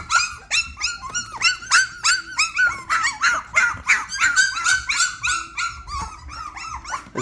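A litter of five-week-old puppies yaps and barks rapidly and close, many high, overlapping yips and little whimpers in a busy, nonstop chorus with no talking.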